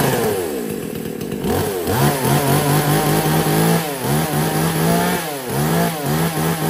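A new chainsaw engine starts and revs repeatedly, rising and falling in pitch through several throttle bursts, loud and close with a steady two-stroke drone.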